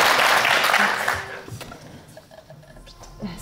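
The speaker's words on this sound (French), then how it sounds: "Les applaudissements d'initiative, c'est merveilleux ça" Audience applause at a fantasy role-playing game session, loud at first and then thinning out into a few scattered claps and quiet room noise over a few seconds.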